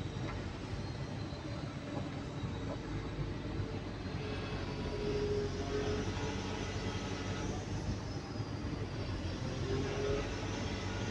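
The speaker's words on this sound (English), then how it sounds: "observe the engine sound" A heavy Cat 320DL excavator engine idles steadily at low revs, a continuous rumbling drone with no break, close and fairly loud; the machine has a low-power and overload fault.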